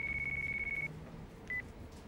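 A phone ringing in the video game Yakuza 5, one long electronic ring tone followed by a short second burst, faint over low background noise.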